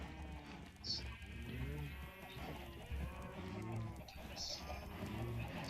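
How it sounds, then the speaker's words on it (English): A flock of red sheep in Minecraft gives repeated wavering bleats, several overlapping at moderate loudness with brief pauses between calls. "A load of red sheep."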